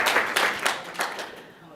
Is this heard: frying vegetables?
no